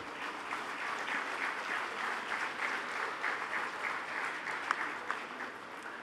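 Applause rolls through a convocation hall for graduating students, a moderately loud, continuous wash of many hands clapping with a few sharper individual claps standing out near the end.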